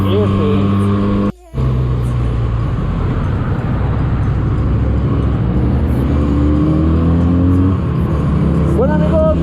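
A 2020 Benelli 302S motorcycle's exhaust rumbles steadily at idle, loud and close, with one brief cut-out early on and a short rising rev near the end.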